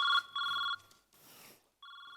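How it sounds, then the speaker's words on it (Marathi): A telephone rings during a Marathi stage comedy sketch, with two clear electronic ring bursts, a short gap of faint noise, and a third burst starting near the end. "इथे आले आता कोणाचा फोन?"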